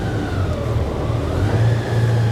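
Honda Goldwing 1800cc motorcycle creeping forward under its button-operated electric drive, a steady low hum and drone at close range with no voices.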